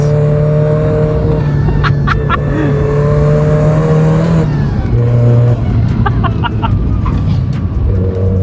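A supercharged Mazda MX-5 Miata on a mountain road revs hard with a loud, buzzing engine note that climbs and drops between shifts, with brief exclamations from a person inside.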